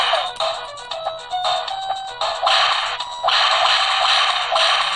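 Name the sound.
Earthworm Jim video game audio on X12 handheld emulator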